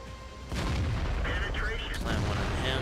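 Heavy booming artillery shots in the tank game World of Tanks, one deep blast landing about half a second in and a second impact near the two-second mark, under a voice talking.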